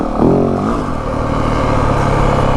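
A 2025 Yamaha WR 450F dirt bike engine chugging at low revs, a loud, close, steady thumping rumble that rises briefly at the start, then settles.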